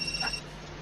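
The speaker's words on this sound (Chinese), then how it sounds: "我电话来了。" A brief electronic phone ringtone inside a mobile game, a few faint high beeping tones lasting under half a second before fading into quiet background.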